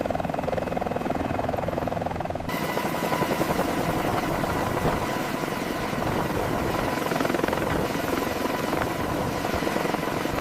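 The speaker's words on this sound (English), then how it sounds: "helicopter 650 uniform, commencing final descent to pad 1." A coast guard helicopter descends to land on a pad, its rotor and turbine roaring loud and close in a dense, continuous wash of noise that holds steady throughout, with no voices.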